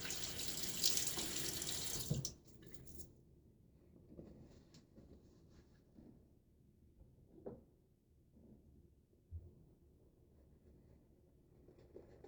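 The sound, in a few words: running water at a sink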